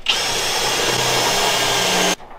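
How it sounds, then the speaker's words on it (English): A power drill bores a hole at a workshop, one continuous loud high whir lasting about two seconds before cutting off abruptly into quiet, with no speech over it. "I'll drill these other holes"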